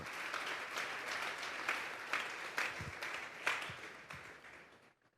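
A church congregation at a Sunday service applauds steadily, many hands clapping in a sustained wash with a few sharper claps standing out, then fading away at the end.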